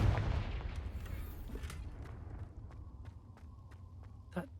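A Confringo spell goes off in Hogwarts Legacy with a heavy opening blast that decays into scattered crackles and light footstep-like taps, ending with a sharp small pop.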